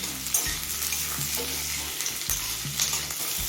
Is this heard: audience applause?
no